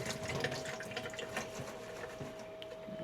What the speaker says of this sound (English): Just rinse it up with cold water.